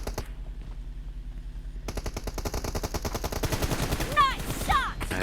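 Rapid automatic gunfire in a PUBG team deathmatch, with dense bursts of shots that grow louder and more continuous, close and sharp, plus a few whooshing sweeps near the end.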